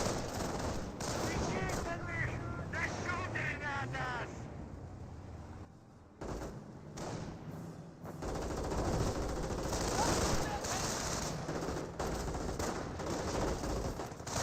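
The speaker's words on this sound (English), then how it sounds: "I hear a 30 cal firing" Sustained machine-gun fire from a .30 cal in the Company of Heroes war game, with rapid bursts mixed with other gunfire and battle noise running loud throughout, broken by a brief lull midway.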